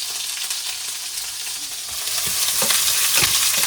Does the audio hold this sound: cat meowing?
no